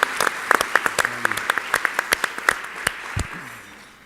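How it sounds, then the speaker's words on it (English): At a student success conference, scattered applause comes from a modest audience: distinct individual claps in an uneven rhythm that thin out and fade over four seconds. "I think we need to applaud as well."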